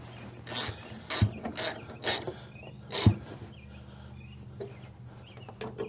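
A 13 mm wrench tightens the nuts on a VW Super Beetle brake master cylinder, giving several short, close ratcheting bursts spaced unevenly with quiet gaps between them.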